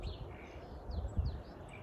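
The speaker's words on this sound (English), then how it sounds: "the sound of the birds." Birds chirp outdoors, thin high tweets and short calls heard faintly over a low rumbling background.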